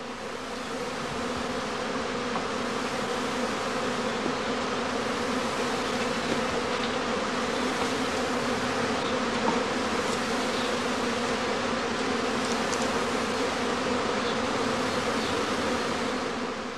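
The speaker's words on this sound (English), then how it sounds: "By spreading a swarm catching bag over the flight entrance, he can prevent the prime swarm from flying away." A dense swarm of honeybees buzzes continuously around heather skeps at an apiary during the prime swarming period, a loud, steady, close drone that never lets up.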